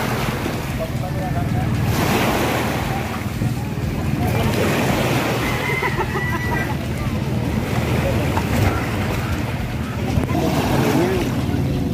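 Big waves and strong wind roar steadily around a small boat on a sea crossing off Ambil, Occidental Mindoro, with loud, continuous surf wash and gusting wind buffeting the microphone.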